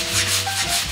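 Steady, rhythmic rasping of a sanding block rubbed back and forth across a primed car body covered in guide coat on an Infiniti Q45, close and continuous for the full second.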